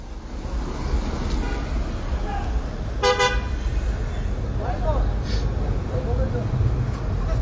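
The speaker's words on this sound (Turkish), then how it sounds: "Şehir içi arabalar da çalışıyor" Busy city street traffic in Cizre at evening, a steady roar of cars with a short car horn toot near the middle and a few faint honks later, with voices faintly mixed in.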